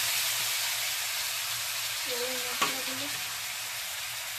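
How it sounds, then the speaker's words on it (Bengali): Chicken pieces go into a hot wok with butter, giving a steady, faint frying sizzle with a brief clank near the middle and no talk. "এবার আমি চিকেনটা কড়াইয়ের মধ্যে দিয়ে দিচ্ছি।"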